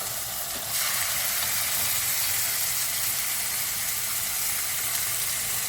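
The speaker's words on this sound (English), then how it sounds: "what we're going to do now is stick these guys in into a searing hot pan" Fillet steaks hitting a searing hot pan, a sudden loud sizzle that starts abruptly and then holds as a broad, steady hiss of frying, close and continuous.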